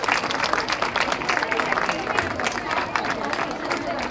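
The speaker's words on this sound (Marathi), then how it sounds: "सगळ्यांनी जोरदार त्यांच्यासाठी टाळ्या वाजवायच्या आहेत." An audience at a school alumni reunion applauds, a dense crackle of many hands clapping with crowd murmur mixed in, steady and fairly close.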